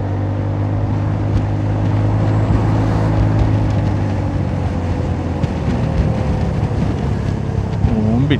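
A Honda Forza 300 scooter accelerates while being ridden, giving a steady, loud engine drone under heavy wind rush, with the pitch climbing near the end.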